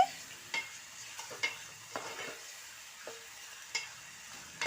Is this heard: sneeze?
no